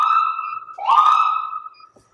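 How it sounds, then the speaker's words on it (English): A short, loud electronic ambulance siren wail, holding a tone and then sweeping upward before cutting off. "We have modification for a siren right here"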